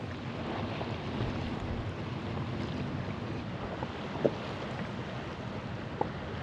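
Wind buffets a microphone out on open water from a small fishing boat, a steady, fairly soft rushing roar with a couple of faint knocks, and nobody talking.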